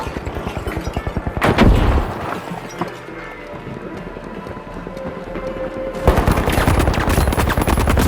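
Frag grenade blast and rapid gunfire in the video game The Finals, with dense bursts of shots, a heavy explosion near the start, a quieter stretch, then renewed loud firing.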